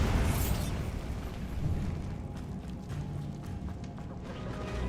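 A Bombarda blasting spell goes off in a video game, giving a loud, dense explosive roar that rumbles and crackles on for several seconds.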